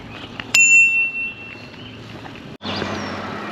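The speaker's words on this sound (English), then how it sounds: "Yeah, bells." A bright bell ring strikes once and fades with a lingering tone, followed by steady outdoor rumble and a second noisy passage.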